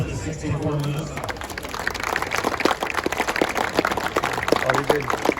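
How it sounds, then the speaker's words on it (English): Crowd at a car show claps and applauds for a 1964 Ferrari 250 GT Lusso, a steady patter of many hands building over a few seconds after a brief voice. "round of applause for the 64 Lusso"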